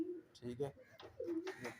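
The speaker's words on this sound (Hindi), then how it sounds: "ये कमरा है, इसके अंदर कबूतर है" Pigeons cooing inside a closed room used for breeding, soft repeated low coos close by, with a brief spoken phrase in the middle.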